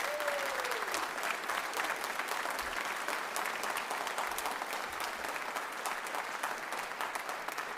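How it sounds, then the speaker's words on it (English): An audience at a high school senior honors night applauds a retiring staff member, with sustained, even clapping from a large crowd in a hall. "Can you please give her a huge round of applause?"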